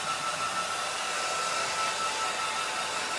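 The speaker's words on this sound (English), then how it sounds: "I'm going to get the hairdryer and speed things up a bit." A hair dryer runs at a constant roar while drying a watercolour painting of a Tuscan farmhouse, loud and close with no break or change in pitch.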